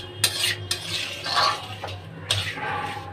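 Semolina roasting dry in a pan is stirred with a spoon, giving a few quick scraping, clinking strokes against the metal over a faint background hiss, close by.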